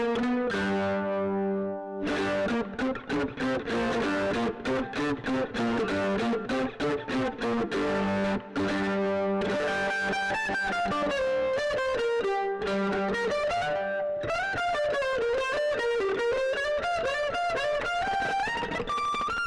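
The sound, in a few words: mandolin with overdrive and distortion effects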